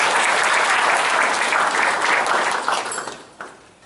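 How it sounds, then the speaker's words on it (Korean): A crowd in a hall applauds to welcome a newly installed regional association chairman at a chamber of commerce breakfast meeting, a loud dense round of clapping that thins and fades out over the last second. "환영의 박수 부탁드립니다"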